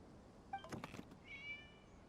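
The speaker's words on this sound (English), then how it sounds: "It was just a cat." A cat in the video game Genshin Impact gives one short meow, then a longer drawn-out meow a moment later, both faint and clear over a quiet background.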